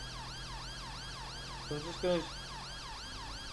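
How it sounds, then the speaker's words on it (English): Emergency vehicle sirens wail in a driving role-play video game, a continuous rising and falling electronic siren cycling steadily throughout, with someone briefly speaking over it. "when they hear oncoming sirens"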